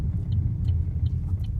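Inside a Chevrolet Cruze on a US test drive, a low engine and road rumble runs steady and moderately loud, with a few faint ticks above it.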